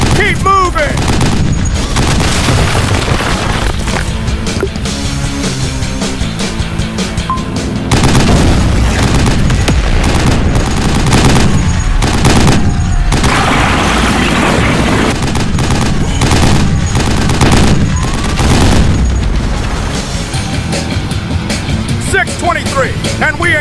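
Dense, continuous gunfire and booming bursts as a squad focuses fire on an enemy tower in a Roblox battle game, loud and sustained throughout under a voice talking over the action.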